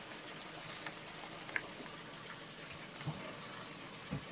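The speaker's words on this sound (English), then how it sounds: "constant running water" Clean mountain water running constantly down a slope, a steady gushing rush with a few small splashes, continuous and fairly close, no voices.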